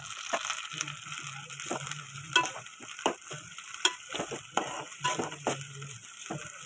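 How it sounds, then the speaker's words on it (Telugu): Onions and mint frying in a pan, a steady close sizzle broken by repeated scraping stirs and light utensil knocks at an uneven rhythm. "కొద్దిగా గోల్డెన్ కలర్ వచ్చే వరకు ఉల్లిపాయలు వేగనిద్దాము"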